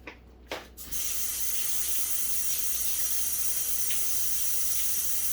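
Tap water runs steadily into a sink as jackfruit is rinsed, starting after a few brief splashes and then holding as an even, close rushing stream with no speech.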